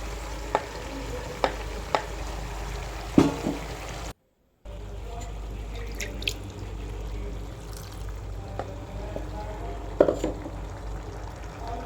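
Spoon scraping and stirring a thick ground spice masala for pork roast in a hot frying pan, with soft sizzling and intermittent clinks against the metal.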